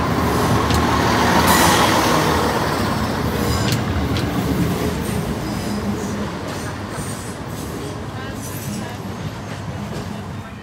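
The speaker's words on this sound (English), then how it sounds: "the 1108 East Midlands Railway service from Newark Northgate" An East Midlands Railway passenger train rumbles past close by at Lincoln High Street level crossing, with a steady, heavy roar of wheels on rails and faint squealing, gradually easing off as it moves on.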